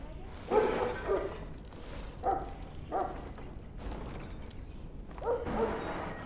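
A hound barks in a medieval fantasy game setting, a few separate yips and bow-wows spaced across the moment at moderate volume, with faint background ambience and no clear talk over them.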